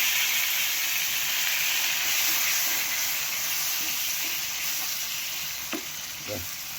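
Pork frying in a wok, a loud continuous sizzle and hiss with occasional scraping knocks of stirring near the end, close and steady throughout.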